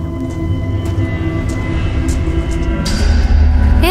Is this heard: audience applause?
no